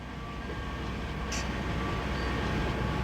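A freight train rumbles steadily at a distance, a constant low, broad roar with no voices over it.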